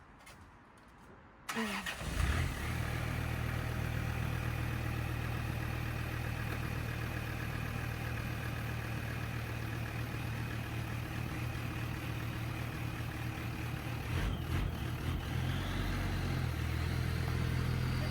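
A Land Rover Defender's engine starts after years unused, then runs steadily with a loud, close, continuous low rumble while the vehicle drives, the pitch rising slightly near the end.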